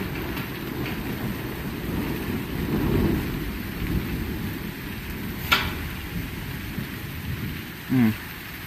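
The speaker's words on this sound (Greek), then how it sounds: "Ξέσπασε η βροχή ισχυρή." Steady heavy rain hisses throughout a thunderstorm in Athens, with a low rumble swelling midway and a sharp crack near the end, like close thunder.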